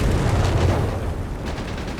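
Gunfire and shell blasts in a Company of Heroes 3 match between Afrika Korps and US forces, heard as a dense, continuous rumble of booms and shots with no clear gaps.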